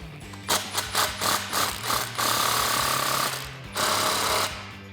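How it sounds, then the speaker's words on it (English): Ratchet tightening an exhaust clamp on a Mustang GT axle-back system, a quick series of close, rhythmic clicking bursts followed by longer steady ratcheting runs, no talking. "I'm just going to tighten up this clamp here."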